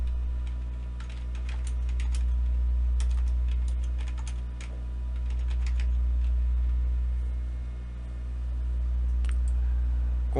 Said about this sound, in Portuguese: inicio a digitação